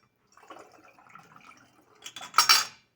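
Chloroform lab waste is poured into a special drain with faint trickling and glassy clinks, ending in a louder splashing, clattering burst near the close.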